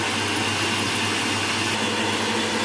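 A stand mixer whisks Italian meringue for a lemon meringue tart, giving a continuous loud, steady motor whir with a dense hiss and no breaks.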